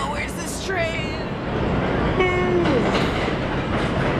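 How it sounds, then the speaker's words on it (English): A train runs through New York City with rumbling wheels and a horn blast midway, heard under loud, close chatter from people waiting nearby. "This train taking forever."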